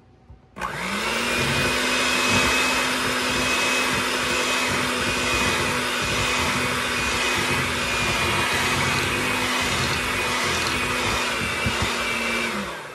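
An electric mixer whirs steadily on low speed through loaf batter, starting abruptly and then holding one continuous hum close by, with no talk over it.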